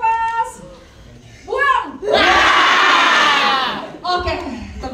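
A crowd of children and adults cheers and shouts at a cinema literature event, a loud burst of voices swelling for about two seconds between stretches of talk, with little distinct clapping.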